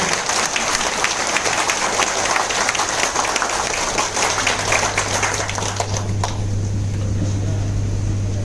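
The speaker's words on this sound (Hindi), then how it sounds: "तालियां बजाएंगे तो दिल से मजा आता है" An audience at a business seminar claps together, a dense steady patter that runs for several seconds with a low hum beneath and thins toward the end.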